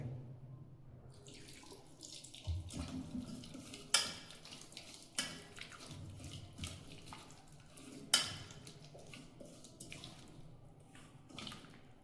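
Water splashes and trickles into a bowl while a thick mushroom pepper batter is stirred, with a few sharper clinks and knocks along the way.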